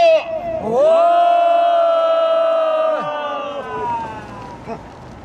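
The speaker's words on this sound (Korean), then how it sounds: "기자회견을 큰 함성과 함께 시작하도록 하겠습니다" A crowd at an outdoor press conference raises a loud, unified shout, one sustained chorus of voices held for about two seconds that then drops away into murmuring and scattered calls.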